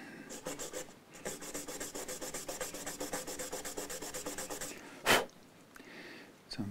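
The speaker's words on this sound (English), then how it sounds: "with the sandpaper" Sandpaper worked by hand on an Epiphone EJ200 acoustic guitar, a close rhythmic rasp of quick regular strokes that pauses, then a single louder scrape and a brief quieter rub.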